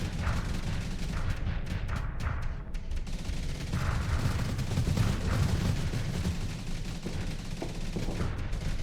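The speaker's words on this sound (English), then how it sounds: "The constant missile barrage is not helping." A missile barrage and weapons fire in the space game Starsector keep up a dense, continuous rumble of rapid explosions and shots, loud and unbroken from start to finish.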